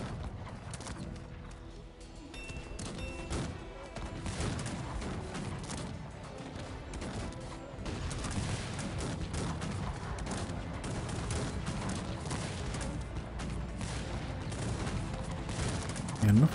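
Battle gunfire in Cossacks 3 with volleys of musket fire and multi-barrel cannons, dense continuous crackling shots and booms layered over a busy battlefield din, loud and sustained throughout.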